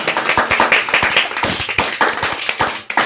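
An audience claps for a student during a Ramayana lesson, dense overlapping hand claps with distinct sharp strikes, close and lively, continuing steadily without speech.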